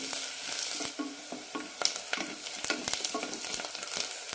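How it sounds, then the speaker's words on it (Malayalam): Sliced onions for a potato egg curry frying in a pan as they begin to brown, a continuous close sizzle broken by repeated scraping stirs of a utensil. "സവാള ചോക്കാൻ തുടങ്ങിയിട്ടുണ്ട്"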